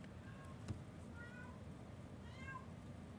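Pearl the cat lets out several soft meows at a distance in a quiet room, with a single small knock early on.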